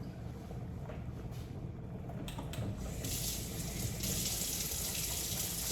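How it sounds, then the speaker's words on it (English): Running tap water pours steadily into a kitchen sink while hands are washed during cooking, a constant soft splashing hiss that grows slightly fuller partway through, with no talk. "So as I'm washing my hand"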